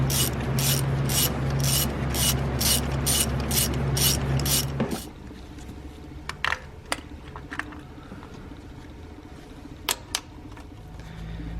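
A ratchet turning a 14 mm thin-wall deep socket to remove a spark plug from a 2013–2019 Nissan Sentra 1.8L engine: about five seconds of fast, steady clicking, then a few scattered, isolated clicks.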